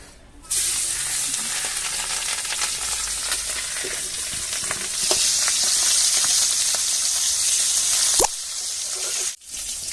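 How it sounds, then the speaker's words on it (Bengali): Tangra fish frying in hot mustard oil, a loud, dense sizzle with crackling pops and spits running continuously after a sudden start, briefly cut near the end. "দেখুন মাছটা আমার ভাজা হয়ে গেছে"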